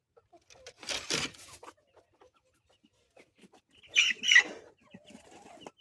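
A hen at a village home clucks in two separate short bursts, close and fairly clear, with near silence in between.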